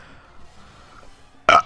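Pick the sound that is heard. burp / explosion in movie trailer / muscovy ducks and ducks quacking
burp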